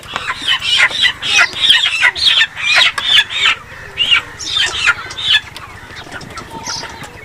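Chickens bought for a picnic cluck loudly and busily up close in rapid, overlapping bursts, tapering off toward the end with one last squawk, with no talk over them.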